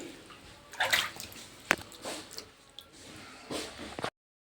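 A wet dog shaking water off its coat after bathing in a pond, heard as brief splattering and dripping bursts close by, with sloshing and squishing sounds between them.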